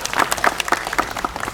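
A brief burst of clapping from an official welcoming gathering, close and fairly loud, with individual claps distinct and a faint murmur underneath.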